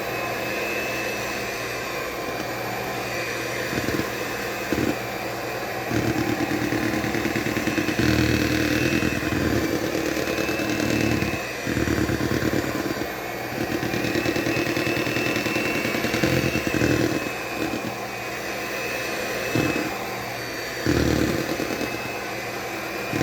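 An electric mixer beating cheesecake ingredients, a loud continuous motor whine that drops out and restarts several times in short bursts, with no talking.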